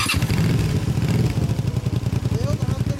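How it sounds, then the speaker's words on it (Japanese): Suzuki Vanvan200 motorcycle fitted with a Moriwaki El Paso muffler, its single-cylinder exhaust running steadily close by with loud throbbing pulses and slight revving toward the end, voices talking over it. "これは森脇のエルパソっていうマフラーです"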